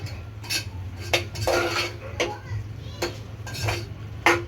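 A metal spoon stirs and scrapes spices and vegetables together in a cooking pan, sharp irregular clinks and scrapes over a low steady hum, close and moderately quiet.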